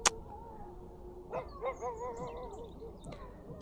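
A dog barks on an evening bike ride, a short burst of two or three yapping barks with a whimpering tail, fairly faint and distant over quiet outdoor background.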